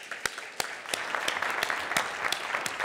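Audience at a conference plenary session applauding the speakers and moderators: steady, dense clapping from a sizable crowd with a few sharper, louder claps standing out, no voices over it.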